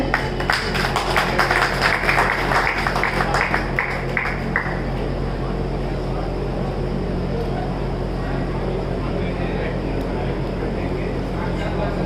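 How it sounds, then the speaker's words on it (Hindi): A crowd at a Maharana Pratap Jayanti celebration claps loudly for about four seconds, then the applause gives way to a steady background drone and hum. "जोरदार तालियां आप बजाते रहें"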